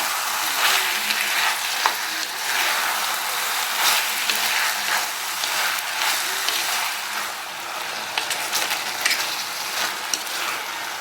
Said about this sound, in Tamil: சிக்கனோட வெங்காயம் தக்காளி இஞ்சி பூண்டு பேஸ்ட் எல்லாம் சேர்ந்து நல்லா வதங்குற மாதிரி வதக்கிக்கோங்க